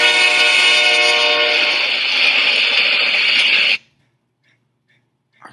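A train sounds its horn as it passes near the tracks, a loud, sustained tonal blast with rumble that cuts off abruptly, leaving near silence with a faint sound at the end.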